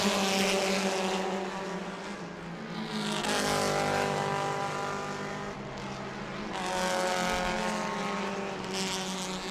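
Race cars roaring down the main straightaway at New Smyrna Speedway, engine drone swelling and fading as cars pass one after another, loud and sustained.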